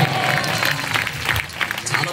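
An audience at a gathering in Manuguru applauds, a dense, continuous patter of many clapping hands close by, with crowd voices mixed under it.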